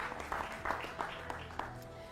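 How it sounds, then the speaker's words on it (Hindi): Studio audience applause welcoming a guest on a televised debate, faint and steady with soft rhythmic bursts of clapping throughout. "उनका भी जोरदार तालियों से स्वागत"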